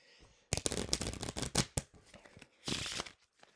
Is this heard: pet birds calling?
no